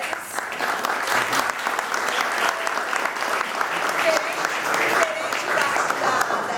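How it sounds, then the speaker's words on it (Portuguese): Women attending a meeting are applauded, with steady, dense clapping from a room of people filling the whole stretch and some voices mixed underneath. "Peço uma salva de palmas, mulheres."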